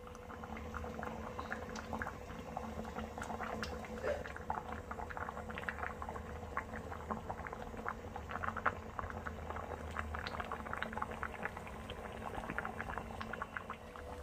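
A pot of chana dal with bottle gourd bubbles at a steady boil, a dense patter of small pops and bursts continuing evenly and close by.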